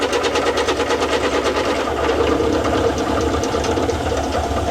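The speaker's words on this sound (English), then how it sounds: "Yeah, making another heavy cut." A Kohala Iron Works milling machine takes a heavy cut, giving a loud, steady mechanical chatter with a rapid regular pulsing rhythm over a droning motor, continuous throughout.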